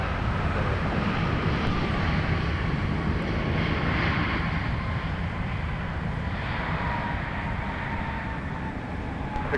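A FedEx heavy jet lands at Minneapolis airport, a continuous broad engine roar, loud and sustained without a break, with faint radio chatter in the background.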